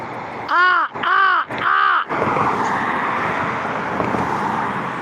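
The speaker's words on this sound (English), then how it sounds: "The crow up here on top of the telephone pole, Zelda." A crow perched on top of a telephone pole gives three loud, harsh caws in quick succession, then falls quiet as steady traffic noise from a nearby road carries on underneath.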